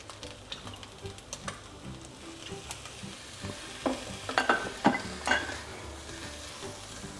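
Sticky rice and bacon stir-fried in a hot pan makes a quiet sizzle broken by rhythmic scraping and pressing strokes, growing busier and louder toward the middle before easing off.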